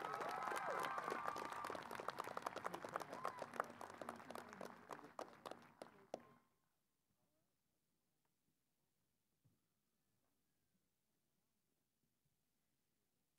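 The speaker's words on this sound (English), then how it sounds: "Another round of applause for Mrs." Applause from a large audience at a high school commencement ceremony rings out as sustained, dense clapping for about six seconds, then fades quickly into near silence.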